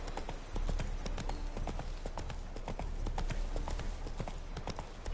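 Hooves of Roach, the horse in the video game Witcher 3, clip-clop in a steady cantering rhythm, loud and close, with repeated sharp footfalls throughout.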